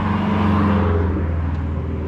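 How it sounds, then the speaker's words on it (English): Cars passing on a road beside a walking route in Maine, a steady loud whooshing traffic roar with low engine hum that swells slightly and then eases, no voices. "I don't have to fight with the noise of all these cars."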